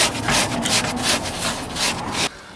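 A soaked abrasive pad scrubs back and forth over leather in quick, steady rasping strokes, close and fairly loud, then stops abruptly.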